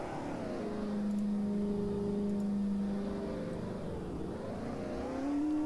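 A cab's engine in the Roblox game Greenville, a steady mid-pitched hum that rises and falls gently as it revs, fairly quiet and alone without talk.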